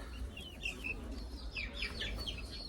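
Several chicks in a cage peep and chirp in quick high bursts, moderately close, over a low steady background hum.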